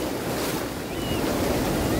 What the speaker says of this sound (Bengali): এখানে ঢেউটা উঠছে শুধু দেখো।